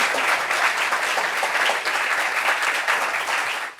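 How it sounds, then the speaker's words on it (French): Sustained audience applause at a meeting, dense and steady from start to finish, a full room clapping together for a guest speaker. "Applaudissements pour monsieur Yapi"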